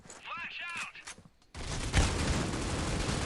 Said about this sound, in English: Tim comes firing through the smoke, tags the player multiple times